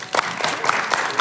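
A live audience claps for a speaker, a dense burst of applause that lasts only a moment and sounds close and loud.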